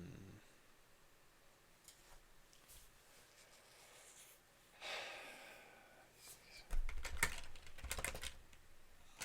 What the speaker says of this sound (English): That sounds like typing.